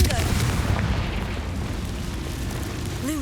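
A Confringo blasting spell explodes in the video game Hogwarts Legacy, producing a loud, sustained rumbling boom with heavy low-end roar that fades slowly, mixed with speech.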